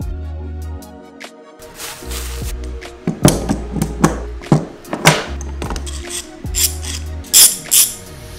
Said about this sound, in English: I think these clamps should work on these molds.